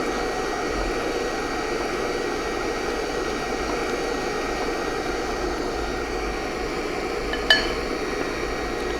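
An electric mixer runs as a constant, loud motor whir while blending gluten-free bread dough, steady throughout with one brief clink near the end and no talk.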